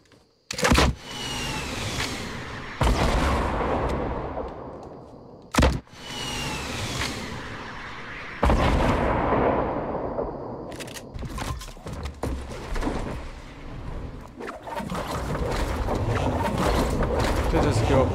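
Gunfire in Fortnite: several loud, sharp shot bursts come in clusters, each with a short decaying tail, over steady game ambience while someone talks.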